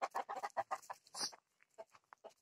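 Hens in a small village coop in Almócita, Almería, clucking and cackling in a quick series of close calls, then a few softer, sparser clucks.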